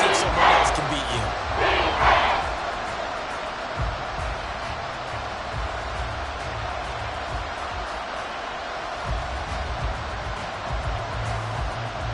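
A stadium crowd in a Denver versus Houston football video game roars steadily, with a few louder swells near the start, then settles into a continuous wash of crowd noise that fills the background throughout.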